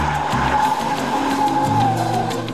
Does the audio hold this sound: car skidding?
yes